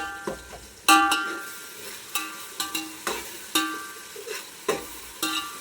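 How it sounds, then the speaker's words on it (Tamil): Spoon scraping and clanking against a pot while stirring mutton biryani masala, in a series of irregular sharp scrapes and knocks over a soft sizzle, close and clear with no talk. "நல்லா இப்போ கிளறிடலாம்"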